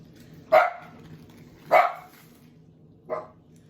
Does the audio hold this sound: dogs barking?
yes